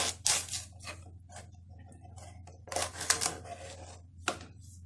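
A knife chops okra into pieces on a board, giving several crisp, close taps in irregular clusters separated by quiet gaps, over a low steady hum.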